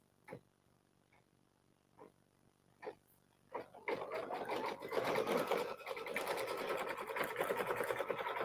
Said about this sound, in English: And then we stitch the outlines.